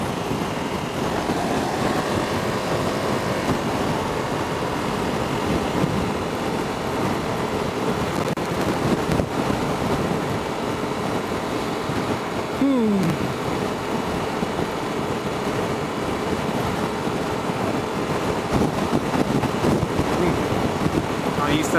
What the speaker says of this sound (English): I'm used to that wind buffering.